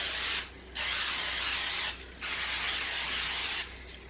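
Aerosol cooking spray misted into three baking pans for freezer lasagna, three hissing bursts of about one to one and a half seconds each, close and loud, separated by short pauses.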